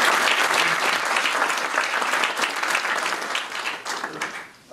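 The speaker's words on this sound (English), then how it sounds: "let's give him a round of applause." Audience applause at a Belhaven University football press conference, steady broadband clapping from a room full of people that holds for several seconds, then thins out and fades near the end.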